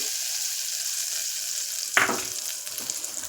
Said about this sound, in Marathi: हा आपला असा तडका तयार घ्यायचा आहे आपल्याला कुकरमध्ये